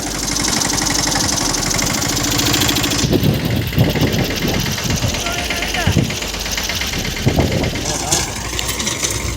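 A tractor engine drives a rotavator through a field, running as a steady, loud mechanical drone with knocking pulses throughout, while someone talks over it.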